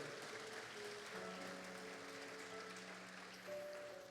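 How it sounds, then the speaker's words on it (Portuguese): Applause from a congregation during an evening celebration worship service, a steady broadband wash of clapping lasting throughout with faint tonal music or keyboard notes underneath. "Dê um aplauso ao Senhor com alegria"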